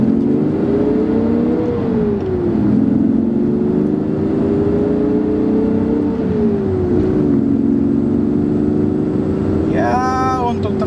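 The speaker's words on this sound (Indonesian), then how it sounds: "Sekarang kita akan coba tenaga mobil ini." A 1987 Toyota Cressida GLXi engine hums and revs up, its pitch climbing and dipping as it shifts through gears, a continuous close drone from start to finish.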